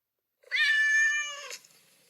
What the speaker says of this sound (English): I have a scaredy cat named Tiny